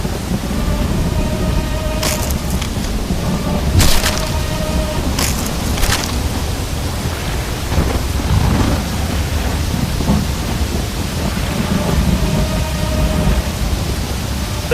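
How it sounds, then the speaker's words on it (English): Heavy rain hisses steadily through a tumultuous storm, and several sharp thunder cracks break through the downpour in the first six seconds. Softer rumbles follow under the continuous rain. "There's been a tumultuous rain, and it has flooded the whole area."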